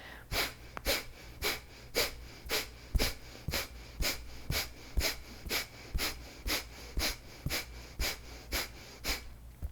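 Forceful rhythmic breath-of-fire exhalations repeat about every half second, sharp nasal puffs with soft passive inhales, close and steady under a quiet background, accompanied by a light beating on the chest.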